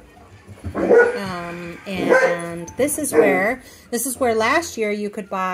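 A dog barks and yips repeatedly during a game trail ride, several sharp calls coming near and loud while a person talks over them.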